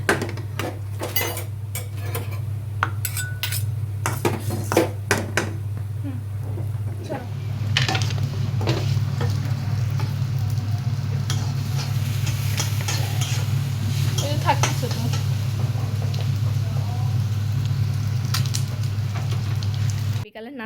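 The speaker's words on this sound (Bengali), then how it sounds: "মুড়ি ভাজতেছে, দেশি মুড়ি।" Local puffed rice (muri) being fried in a pan on a rainy day: a steady low roar of heat underneath, with scattered scrapes and clinks of a utensil against the pan. A voice talks over it now and then.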